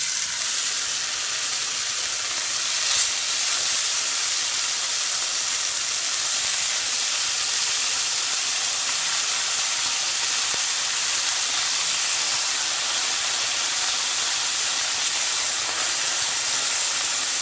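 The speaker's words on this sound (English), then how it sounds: "And now I have my cast iron skillet." Marinated Spam browning in a lightly oiled cast iron skillet over medium heat, a steady close hiss and sizzle that runs unbroken throughout with no voices.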